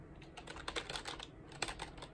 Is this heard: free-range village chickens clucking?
no